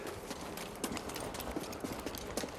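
Goats clattering about in Star Wars Jedi: Fallen Order, their hooves making a quick, uneven run of light tapping steps over a faint game ambience.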